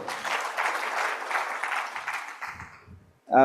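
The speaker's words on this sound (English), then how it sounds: "So can we clap for you as well?" Audience applause at the closing session of an economic forum: sustained clapping from a crowd for about two and a half seconds, fading out, followed by a brief burst of sound right at the end.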